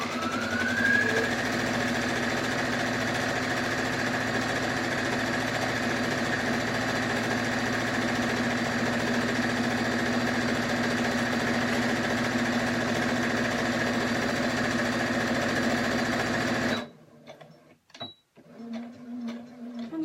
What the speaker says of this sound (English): I'm just going to sew down this using a 1/4 inch as well.